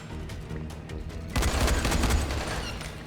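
Gunfire in the zombie video game Dying Light: a few scattered shots at first, then a sudden dense burst of rapid fire and booms that stays loud to the end.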